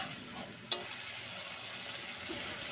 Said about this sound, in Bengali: এবার আদা রসুন আর পেঁয়াজটা ভালো করে কষিয়ে নেবো যতক্ষণ না এর কাঁচা গন্ধটা চলে যাচ্ছে।